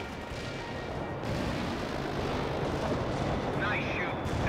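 Artillery strike landing on a target in the World in Conflict war game, heard as a continuous rumbling, dense roar of explosions and battle noise with voices speaking over it.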